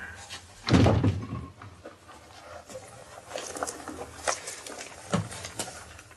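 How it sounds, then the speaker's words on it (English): A door swings and shuts with one loud thump near the start, followed by fainter knocks, shuffles and movement in a quiet indoor room. "Shut the door."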